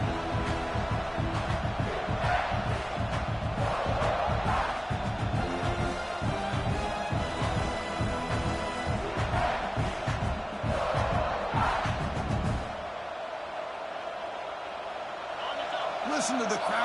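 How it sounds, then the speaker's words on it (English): A college football stadium crowd roars in a continuous wall of noise under a commentator's voice, swelling and surging before dropping away near the end. "Listen to the crowd energy here in the early going."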